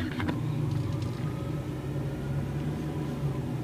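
A car climbs a mountain road at around 5,000 feet in the Roan Mountain highlands of Tennessee, a steady low engine and road rumble throughout, close and constant, with a brief clatter near the start.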